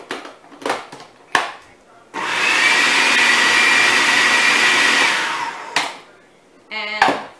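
A blender whirs loudly and steadily for about three seconds, mixing raw nut pâté seasoned with cumin, with short knocks and clatter from handling before and after.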